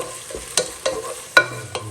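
Chopped tomatoes are stirred in a pan for black chickpea curry, giving a few distinct scraping clacks of a spoon against the pan over a low cooking hiss, with no talk.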